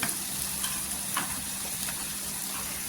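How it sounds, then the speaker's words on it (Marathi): Ginger garlic paste frying in hot oil for a spicy chutney, a steady close sizzle and crackle throughout with light stirring scrapes and no voices. "अद्रक लसणाची पेस्ट घ्यायची 1 चमचा, छान अशी तेलावर परतून घ्यायची"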